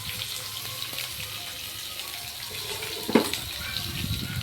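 Onions and green chillies frying in a pan, a soft steady hiss with a brief louder crackle and splash partway through.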